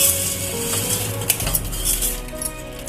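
Two portions of lentils (dal) being washed in a metal pot, with close, continuous clinking, scraping and swishing of grains and water against the metal, no talking.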